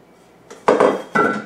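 A spatula scrapes and taps while spreading poke cake batter across a greased glass baking pan, giving two or three close, short clattering strokes after a quiet start.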